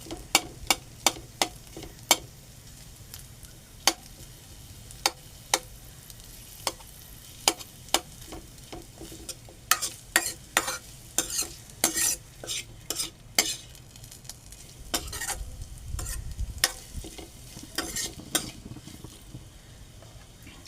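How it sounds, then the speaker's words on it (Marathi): Diced potato and green chilli sauté in a pan for a fasting dish, a soft sizzle under frequent sharp clicks and scrapes of a spoon against metal, irregular and close, with no talking. "बटाटा थोडासा परतून घेतला, मिरची आणि बटाटा, तर त्याला जरा मिरचीचा फ्लेवर बटाट्यामध्ये येतो."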